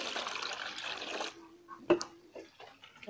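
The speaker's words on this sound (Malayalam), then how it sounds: "ഇതിനകത്തേക്ക് ഒരു 3 കപ്പോളം നമുക്ക് വെള്ളമൊഴിച്ച് കൊടുക്കാം." About three cups of water poured into a bone meal fertilizer mix for curry leaf plants, a close, steady liquid pour for over a second that stops, followed by a few faint drips and small splashes.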